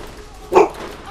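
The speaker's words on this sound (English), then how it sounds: "Oh, dog made me jump." A single short dog bark rings out in the video game Borderlands 1. The yelp is fairly close and stands over a low background hum.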